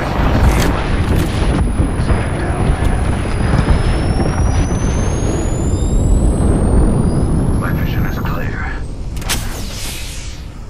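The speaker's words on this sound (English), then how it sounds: "Airstrike." A loud, sustained rumbling blast from a video game airstrike fills the whole stretch, with heavy low booms rolling on under a high streaking whine, then a sharp burst near the end.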